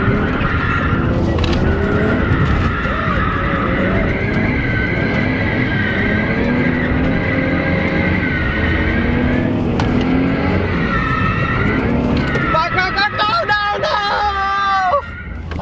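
Pontiac GTO on worn-out, nearly bald tires drifting hard, with loud continuous engine roar and long tire squeals and skids, a shrill screech rising near the end, under crowd chatter nearby.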